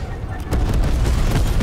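Napalm strike explosions in a first-person shooter video game, a loud rumbling burst of booms and crackling blasts that swells after a brief pause and keeps rolling densely.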